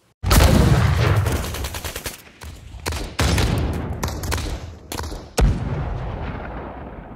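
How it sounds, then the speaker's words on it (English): Gunfire from a general sound effects library: a string of loud, close gun blasts and booming artillery-like shots, each sharp crack followed by a rolling tail, some in rapid bursts, with short pauses between. "Guns."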